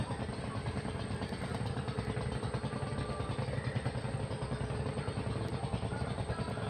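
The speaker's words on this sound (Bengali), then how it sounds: "ওদিকে একটি নৌকো আসছে, খেয়া নৌকো" A ferry boat's engine chugs with a steady, rapid thumping on a river in the Sundarbans, faint and continuous without speech.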